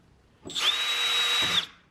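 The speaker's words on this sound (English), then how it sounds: "You may have to take another try at it and drill on it a little more" A power drill bites into a rusted bolt on a Cummins engine's oil pan, a single steady high-pitched whine lasting about a second with a sharp start and stop, loud and close with no talking.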